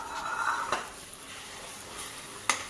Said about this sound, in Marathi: आता आपण हे वांग स्मॅश केलेलं आहे ना, ते परतून घेऊया आता